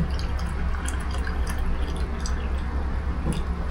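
Hot water streaming from a Cuckoo water filter dispenser into a container, a steady close splashing and trickling pour with faint droplet ticks, running continuously without speech.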